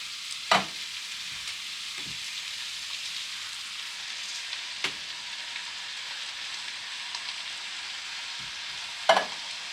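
Ground beef for sloppy joes sizzles in a pan, a soft, even crackle that runs throughout. A few sharp clicks or scrapes stand out, and no one speaks.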